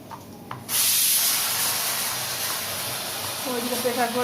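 Liquid sprayed in a sustained broadband hiss that starts abruptly and keeps going for several seconds, close and fairly loud, with faint voices underneath near the end.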